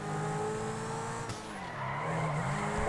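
A Lamborghini Aventador in GTA 5 revs with a high engine whine, its tires squealing and skidding as it drives, loud and close with no talking.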